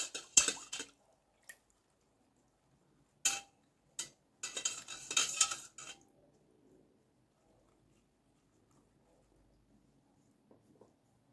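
A milky slime mixture being washed in a bowl gives a handful of short wet squelches and clinks in the first few seconds, then fades to near silence with only faint, sparse ticks.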